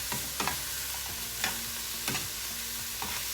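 Mushroom and onion cooking in a pan for a toasted mushroom and cheese sandwich, a steady close sizzle broken by several scraping stirs of the spatula at irregular intervals.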